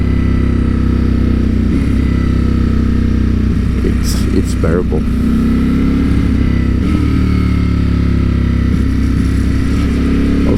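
A 2023 Ducati Streetfighter V4 SP2 motorcycle engine idles in neutral with two cylinders deactivated, a steady low rumble running throughout, fairly close, with a person talking over it.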